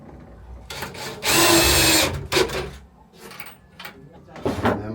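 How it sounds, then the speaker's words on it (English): A power drill drives screws into the rear wall of a sauna cabin during assembly, one loud sustained whir under a second long, then shorter bursts and knocks, with a voice talking nearby. "I'm going to use my 3 screws, 1 in each end to attach to the rear wall."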